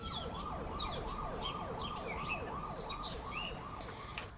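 Ambulance siren with a repeating rising-and-falling wail, steady and fairly loud throughout, with chirping sounds scattered above it and no voices.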